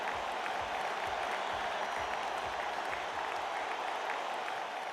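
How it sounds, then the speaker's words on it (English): Crowd applause in the video game Radiant Tale, a steady dense wash of clapping that runs unbroken throughout at moderate level, with no voices over it. "The crowd broke into thunderous applause."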